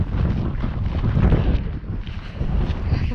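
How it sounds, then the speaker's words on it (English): Strong wind roars steadily across the microphone at Grábrók volcano in Iceland, a dense, gusty rumble that fills the whole stretch without pause. "It's a little bit chilly with the wind."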